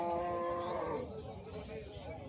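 A bull at a cattle market gives a short, low moo that falls away after about a second, set against a murmur of market background noise.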